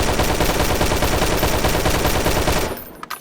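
Rapid automatic gunfire from a ranged weapon in the video game Sunkenland, a dense loud continuous burst of shots that stops abruptly, leaving a faint quiet tail.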